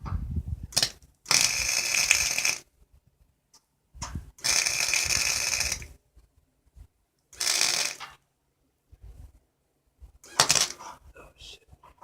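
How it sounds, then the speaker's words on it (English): Flux-core, gasless welding on a metal cart, sounding as four separate bursts of broadband crackling buzz, each lasting one to two seconds, with brief silent gaps between them and no talking. "let's do this weld."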